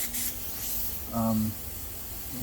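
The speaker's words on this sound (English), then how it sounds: "you could actually put your airbrush right up to the surface like this, and you could attempt to spray." An AIRCOBRA airbrush held right up to a surface, giving a soft hiss with a brief stronger spray burst around the middle, faint and close, with no talking.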